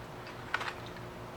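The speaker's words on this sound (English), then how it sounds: "So I'm shuffling right now." Tarot cards being shuffled, a soft riffling and tapping that comes in brief quiet bursts over low room hiss, with no talking.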